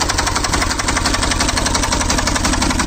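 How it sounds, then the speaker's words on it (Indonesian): An HDT M1030 M1 diesel trail motorcycle engine runs with a steady, loud, knocking chug close by, like a tractor idling. "namun jika mesin dihidupkan, suaranya berisik kayak traktor"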